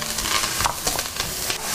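King oyster mushroom strips stir-fried with shredded scallion and ginger in a wok, a steady close sizzle with short scrapes and stirring clatters spread through it, no voices.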